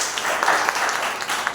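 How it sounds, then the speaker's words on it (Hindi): Audience applause at a Sunday church service, a dense sustained patter of clapping mixed with voices throughout. "एक जोरदार ताली बजाएं"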